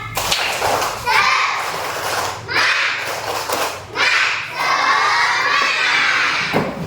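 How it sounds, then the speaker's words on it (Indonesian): Children clapping and shouting a rhythmic chant together in a classroom, loud bursts of voices and claps in several waves close by. "marilah kita tepuk semangat"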